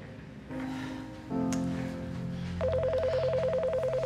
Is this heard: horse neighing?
no